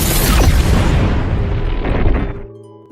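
A small explosion in an action film, set off when rebels fire their guns, lands as a loud, close boom with a broad rushing blast that rumbles and then decays over about two and a half seconds, cutting off abruptly without any voices.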